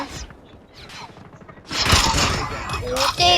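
Gunfire in a shooting video game, scattered sharp reports and mechanical clicks that turn into a denser burst of shots in the second half, with players talking over it.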